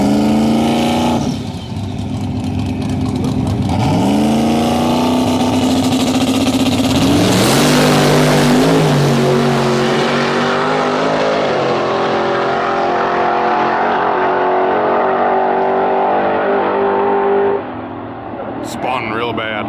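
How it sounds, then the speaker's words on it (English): A big block drag racing car revs loudly at a racetrack, its engine rising and falling in repeated pulls before a long sustained roar, with people talking nearby under the noise. "Can't hear anything with that big block car."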